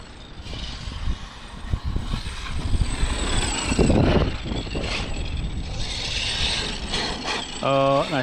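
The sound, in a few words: Traxxas X Maxx RC car pinion gear grinding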